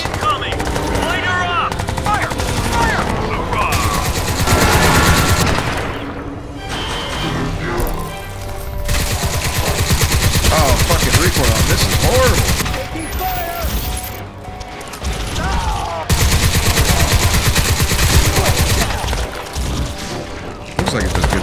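Sustained automatic gunfire in Crysis 2, dense rapid bursts with booms running almost continuously over about twenty seconds, loud and close, with shouted talk mixed in.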